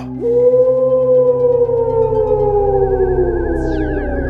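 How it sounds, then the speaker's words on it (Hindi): A jackal howls loudly at night in a village setting, a single long sustained wail that slowly falls in pitch over several seconds, heard alone and close. "तभी अचानक एक सियार जोर से गूंज उठा।"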